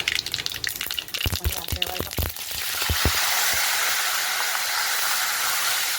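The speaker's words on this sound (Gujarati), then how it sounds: "1 મોટી ચમચી તલ નાખવાના." Sesame seeds tempering in hot oil for patra, opening with a flurry of sharp crackles and pops that settles after about three seconds into a steady, loud hiss.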